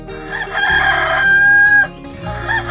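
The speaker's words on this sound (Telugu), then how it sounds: "మీ అందరిలో కోడిపుంజు కోత బాగుంది" A rooster crows loudly and alone in one long, rising and sustained call that breaks off sharply, followed by a brief softer cluck.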